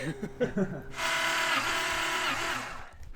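A broken-down car's engine cranks without catching. A short burst of talk comes first, then a steady whirring starter churn runs for about two seconds before stopping.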